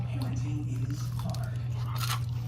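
Crisp bites into crunchy battered fried chicken, close and fairly quiet, a few short crackling crunches over a steady low hum.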